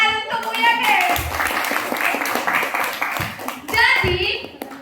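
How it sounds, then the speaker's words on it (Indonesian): A classroom group claps for a teacher in a burst of scattered hand claps lasting several seconds, mixed with children's voices and talk. "Tepuk tangan untuk Bu YB."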